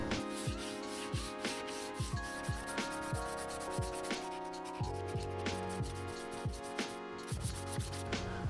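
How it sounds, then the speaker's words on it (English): Rhythmic back-and-forth rubbing strokes of sandpaper and sanding sponges on a 3D-printed mask repeat steadily under continuous background music. "400 sandpaper, grit sandpaper, and a couple of sanding sponges so I can get all like the grooves"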